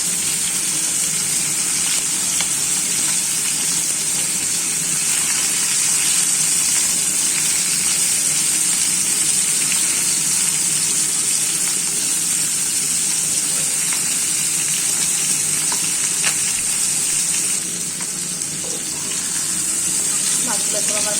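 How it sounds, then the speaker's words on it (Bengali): Falli fish fry in oil in a pan, a continuous loud sizzling hiss with small pops. A voice talks faintly underneath it. "মাছগুলো সুন্দর ভাজা হয়ে গেছে।"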